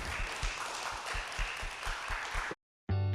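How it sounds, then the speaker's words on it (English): A round of applause from a gathered audience at a community event, dense clapping for about two and a half seconds before cutting off, followed by a brief tonal chime. "Yes, round of applause."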